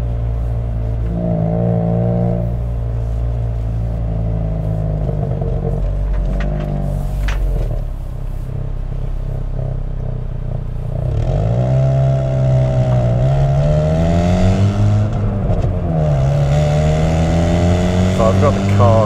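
A Hyundai i20 N engine hums steadily at low pitch in standard mode, rising and falling in tone as the car drives, with someone talking over it throughout.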